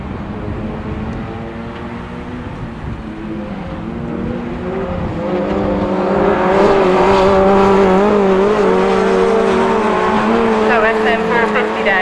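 Autograss race cars roar around a dirt track at St Neots, their engines droning loudly and rising in pitch as they accelerate, with a commentator talking over the racing throughout.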